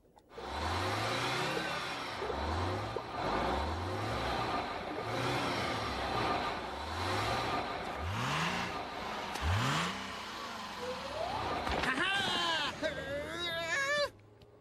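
A cartoon bus in SpongeBob pulls away: a repeating revving engine with rising swoops, steady and loud for several seconds, then warbling tonal effects over the engine near the end.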